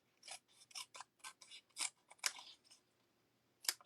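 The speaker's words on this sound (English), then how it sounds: "I'm just going to cut up a strip." Scissors cut a paper strip for a Stampin' Up! birthday card, giving a string of quiet, close snipping and rasping crunches in an uneven rhythm with no voices.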